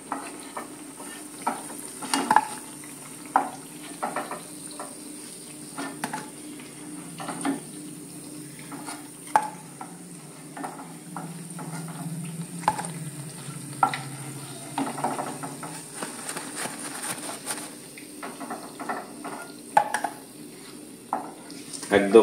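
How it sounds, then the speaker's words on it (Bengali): Drumstick flower fritters fry in hot oil, a soft, continuous sizzle broken by scattered sharp clicks and scrapes as the fritters are turned and stirred in the pan. "উল্টে এবার এই পিঠটা ভাজা হোক।"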